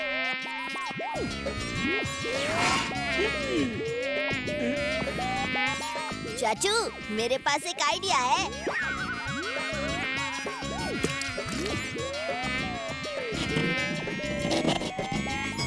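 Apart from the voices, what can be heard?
mosquitoes buzzing in an animated cartoon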